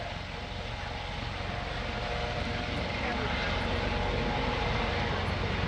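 A US Coast Guard search and rescue aircraft based out of Atlantic City flies at an airshow, its engines droning loud and steady throughout, with a voice speaking over it.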